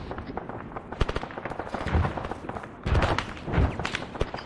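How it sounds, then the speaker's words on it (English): Enemy mortar rounds landing in ARMA 3, a string of sharp thuds and cracking impacts at irregular intervals, with louder clustered hits in the second half over constant battlefield noise. "Enemy mortars landing."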